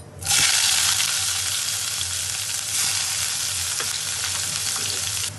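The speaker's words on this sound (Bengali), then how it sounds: "এবার ওই তেলে আলুগুলো ভেজে নেব।" Potatoes fry in oil with bay leaves, cinnamon and cardamom, producing a loud, close, continuous sizzling hiss that starts abruptly and holds steady, with faint stirring knocks underneath.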